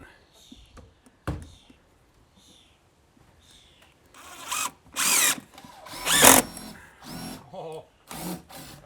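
A power drill drives black screws into a DIY garden shed in several short bursts, with quieter handling noises in the pauses between them.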